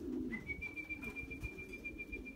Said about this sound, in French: Le deuxième pigeon.